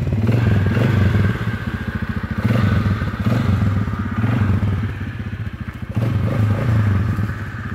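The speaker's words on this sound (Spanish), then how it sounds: "Enciende la moto." A motorcycle engine starts and idles at close range, a loud steady rumbling putter that holds throughout with slight dips and surges, no speech.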